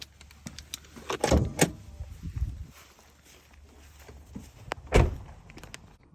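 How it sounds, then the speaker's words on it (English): Hood release on an Acura ZDX crossover: a couple of sharp mechanical clunks and thumps as the lever is pulled and the hood pops, with rustling movement around the car and no talking. "Pop up the hood."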